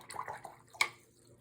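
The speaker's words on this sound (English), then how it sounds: "And then I'm gonna rinse my brush off so I don't get purple in my yellow." A paintbrush carrying purple paint is swished in a tray of water, a short close watery slosh with one sharper splash near the end, fairly quiet.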